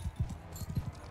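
Horse hooves gallop in Mount & Blade II Bannerlord, a quick, rhythmic clip-clop of several close, fairly loud hoofbeats over a low background.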